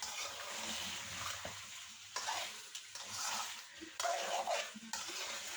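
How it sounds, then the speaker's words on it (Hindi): Chili, cinnamon, cloves and salt roast in a pan over a low flame with a faint steady sizzle and hiss, marked by occasional scraping stirs and a few soft knocks, quiet and close. "थोड़ा सा मिर्च, दालचीनी है और लौंग है, नमक है, ये सारी चीज़ें डालूंगी। इनको थोड़ा सा भून के"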